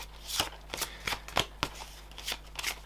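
Oracle cards being shuffled by hand: a series of crisp riffling bursts in uneven rhythm, close and moderately loud, with a low steady hum underneath and no speech.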